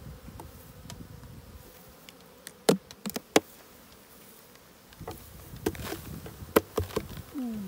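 Honey bees buzz around a hive as they pass through a queen excluder grille while royal jelly is produced, a faint steady drone broken by a few close, sharp passes of individual bees.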